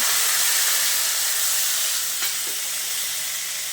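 Asafoetida and urad dal fry in hot oil as a steady, loud hiss and sizzle that continues evenly throughout, with no talk.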